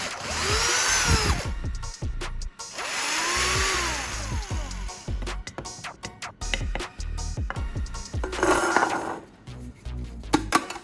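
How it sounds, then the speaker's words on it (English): A power drill whines in two separate bursts while boring two small holes into the top end of a wooden handle, with light tapping and handling noises in between. "drill 2 small holes at the top end of the wooden handle"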